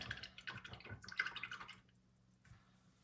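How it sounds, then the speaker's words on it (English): A paint brush rinsed in a small water container, with close, quiet splashes and clinks in an uneven rhythm for under two seconds, then near silence and one faint swish. "I'm gonna rinse my brush really well"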